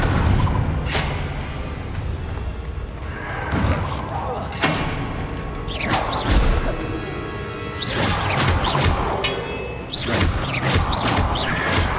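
Confringo spell blasts in Hogwarts Legacy on PS5, a series of loud impacts, whooshes and crashing bursts over continuous game noise, several sharp hits clustered toward the end.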